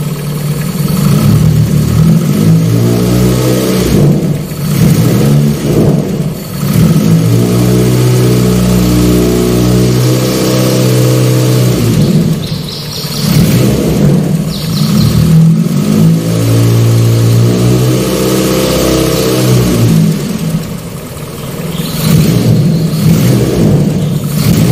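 A Daihatsu Charade engine revs up and settles back in repeated close, loud bursts while its distributor vacuum advance is being checked, with no talking over it.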